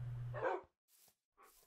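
Dogs barking in the Minecraft modpack Life in the Woods Renaissance, a quiet sequence of three short barks with gaps between them, the first one longer with a low tonal start.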